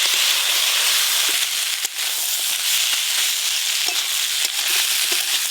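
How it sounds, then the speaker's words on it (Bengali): Fried potato, eggplant and crab are stir-fried in masala, giving a loud, continuous dense sizzle close up with scattered scrape and tap sounds from the stirring. "আলু বেগুন ভাজা, কাঁকড়া ভাজা, মশলার সাথে ভালো করে সব কিছু কষে নেব।"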